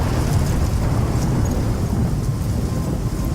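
Rain and thunder from the storm in the video game Life is Strange form a constant, dense rushing roar with a low rumble throughout, loud and unbroken, with no talking.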